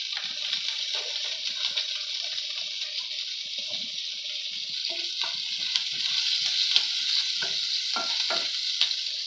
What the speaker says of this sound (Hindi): बस 1 मिनट मसाला को भूनना है हमें।